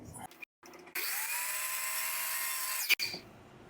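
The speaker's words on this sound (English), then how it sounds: "Take this to the miter box and I'm going to get this bottom section cut off." A power miter saw cuts through a wooden section, a loud steady whine of about two seconds with a sharp bite at the end as the blade finishes, preceded by brief shop noise.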